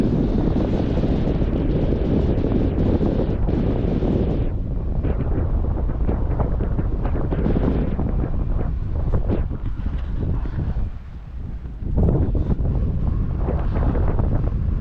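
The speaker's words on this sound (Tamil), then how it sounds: "அது என்ன சத்தம் அப்படின்னா அந்த கடல் காற்று" Steady sea wind buffets the microphone with a low rumbling roar throughout, dipping briefly before gusting again, at Sudarshan Setu cable bridge, Beyt Dwarka, Gujarat.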